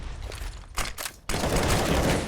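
Tec-9 pistol shots in Counter-Strike: Global Offensive during a professional match on the Overpass map, heard as a few quick bursts of sharp cracks followed by a dense, loud barrage of gunfire.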